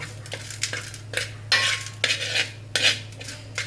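Vegetables and tomatoes with rock salt stirred in a biryani pot, rhythmic metal spoon scrapes and clinks in several bursts over a low steady hum, close and moderately loud.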